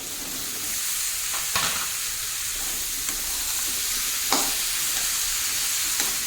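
Diced bottle gourd and a small potato stirred in a hot frying pan, with a steady frying sizzle throughout and occasional sharp scrapes of the spatula against the pan.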